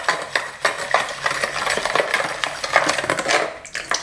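A spoon stirs a mixture of sesame oil, sauce and sugar in a bowl for baked shrimp with glass noodles, giving scattered light clinks and scrapes at an uneven pace, close and fairly quiet, with no talking.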